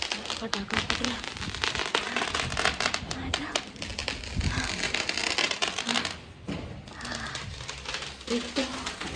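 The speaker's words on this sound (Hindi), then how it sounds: "पटाखा फट गया।" Loud, dense crackling and popping bursts of firecrackers going off continuously nearby at a nighttime wedding procession, with voices mixed in underneath.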